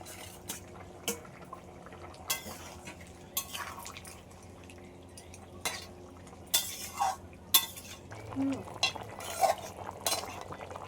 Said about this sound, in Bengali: আলু আর কুমড়োটা প্রায় সিদ্ধ হয়ে গেছে এবার ভেজে রাখা মাছটা দিয়ে দিচ্ছে